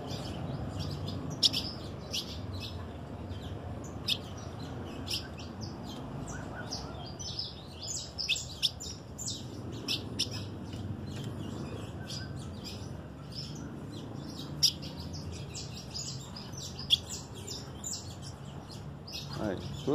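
Young chicks in a breeding aviary chirp constantly, many sharp high tweets overlapping at close range, with someone talking quietly underneath at times.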